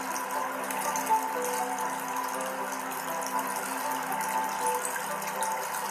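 Water flows steadily in a continuous, soft rushing wash, like a gentle stream or fountain, even in level with no breaks and no voices.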